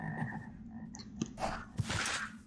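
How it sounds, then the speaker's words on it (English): A Minecraft frog croaks several times, short raspy bursts spaced irregularly over a low game ambience. "A frog is coming."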